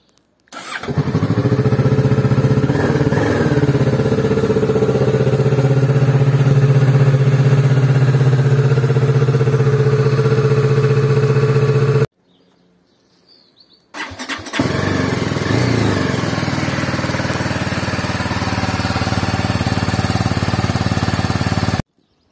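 A Kawasaki motorcycle engine runs at a steady idle, loud and close, cuts out briefly, then rumbles back to a steady idle.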